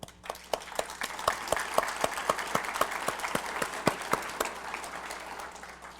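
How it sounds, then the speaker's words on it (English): An audience at a Bois Forte State of the Band gathering claps in a fairly small, sparse round of applause, individual claps distinct and rhythmic, moderately close, tapering off toward the end. "Let's give them a round of applause."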